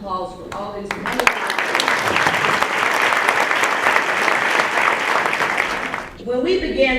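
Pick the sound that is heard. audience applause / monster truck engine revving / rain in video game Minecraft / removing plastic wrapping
audience applause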